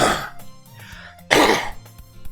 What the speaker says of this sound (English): Welcome to the video where I just sort of cough repeatedly.